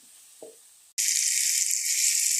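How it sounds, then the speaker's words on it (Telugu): Chopped tomatoes dropped into a hot pan for a bendakaya tomato curry burst into a loud, continuous sizzle after a moment of near silence and a faint clink. "ఇప్పుడు కట్ చేసుకున్న టమాటాలు వేసుకుంటున్నాం."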